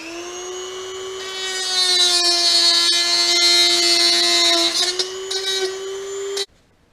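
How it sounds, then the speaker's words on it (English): A Dremel rotary tool reams out a dryer hose fitting, giving a loud, steady high whine that holds for about six seconds, wavers slightly as it bites, then cuts off abruptly. "We got our Dremel tool."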